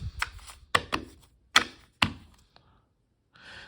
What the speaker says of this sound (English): let's see how these shuffle